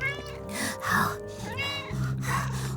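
Close cats meow repeatedly, their drawn-out, wavering cries overlapping in a noisy chorus.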